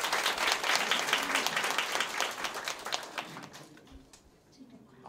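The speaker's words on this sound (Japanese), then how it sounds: "拍手してお迎えください。" An audience at a community safety gathering applauds to welcome a children's brass band of 36 elementary schoolers, dense steady clapping that tapers off toward the end, with some speech mixed in.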